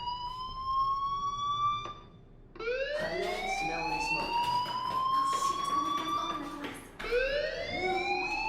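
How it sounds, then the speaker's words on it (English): A school fire alarm in the Life is Strange video game sounds as a loud, rising electronic siren tone, cutting out briefly and restarting twice, with layered sweeping pitches ringing through the hallway. "Hey, do you hear that fire alarm?"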